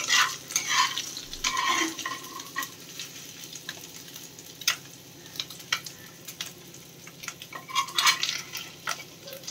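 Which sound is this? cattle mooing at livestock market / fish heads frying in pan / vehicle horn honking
fish heads frying in pan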